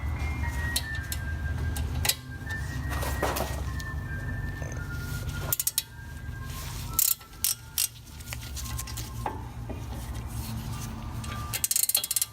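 A ratchet with an 18 mm socket clicks in quick bursts while loosening a BMW 3 Series brake caliper bracket, with metallic clanks and a steady background hum throughout.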